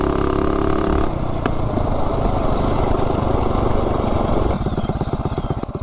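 A small RC car on stock drivers launches with a steady buzzing motor whine, then bogs down into a rougher, pulsing drone near the end, close and continuous with no talking.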